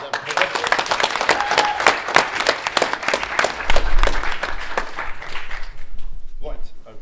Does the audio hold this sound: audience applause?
yes